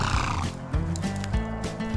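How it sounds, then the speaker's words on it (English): Wild Spanish Mustang horses in the Arizona desert neigh and whinny loudly, several overlapping calls rising and falling close by. "this area is home to the descendants of the Spanish Mustangs who first came here with Cortez in the early 1500s"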